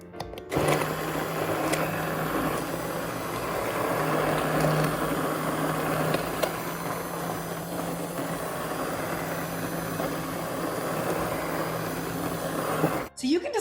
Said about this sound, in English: Okay, let's blend.